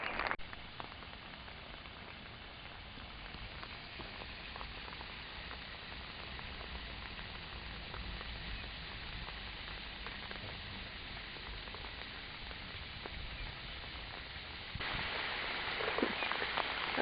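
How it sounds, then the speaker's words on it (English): Heavy rain falls steadily on a Madrid street as a dense, even hiss that runs throughout and grows slightly louder near the end. "Keeping it positive, even though it's crazy rainy in Spain."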